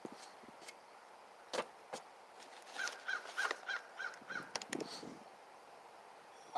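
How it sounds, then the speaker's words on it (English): A crow caws in an unusual pattern, a run of repeated calls in the middle of the stretch with a few sharper calls before and after, fairly close against a quiet outdoor background. "that I've never heard a crow do that before"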